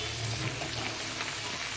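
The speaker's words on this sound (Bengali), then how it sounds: "হাই ফ্লেমে ফ্রাই করে নেব, ভাজা ভাজা করে নেব" Diced potatoes fry in a pan over high flame with a dense, continuous crackling sizzle, close and fairly quiet, with light stirring and no voices.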